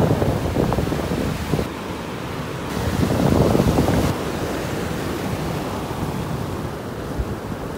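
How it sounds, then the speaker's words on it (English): Ocean waves crash on a beach in North Naples, Florida, a loud rolling surf with one bigger break swelling midway, mixed with gusty wind buffeting the microphone and no voices. "watching those waves crashing there"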